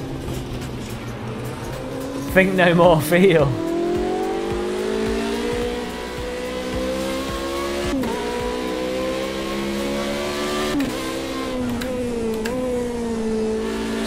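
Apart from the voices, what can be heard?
Ferrari engine in Project Cars 2 video game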